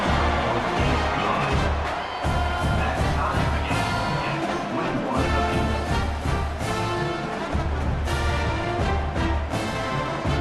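Dense football stadium crowd cheering steadily after an extra point, a loud continuous roar of many voices with whistles and shouts throughout.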